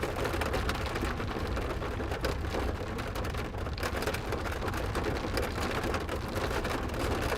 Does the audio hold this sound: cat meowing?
no